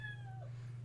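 A single short meow from a cat in Minecraft, clear and alone over a low steady hum.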